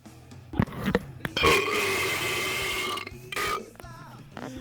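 A person lets out a long, loud belch that rumbles for nearly two seconds up close, followed by a shorter second burp, with brief vocal noises around them.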